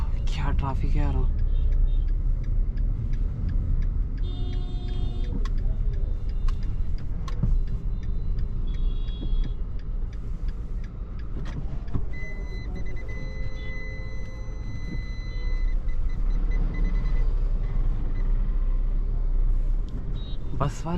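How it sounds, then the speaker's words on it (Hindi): Road traffic from inside a moving Maruti Vitara Brezza, a steady low rumble of engines and tyres with passing buses and vehicles, and someone talking over the noise throughout. "क्या ट्रैफिक है यार।"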